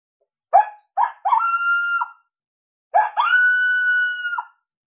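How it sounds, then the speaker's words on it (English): A female coyote call from the Boss Coyote Mayhem Pak mixes a couple of quick, sharp barks with sustained howls. Two barks lead into a first howl, then another bark kicks off a second, longer rising-and-falling howl, loud and clear. "And she'll have a couple barks in here"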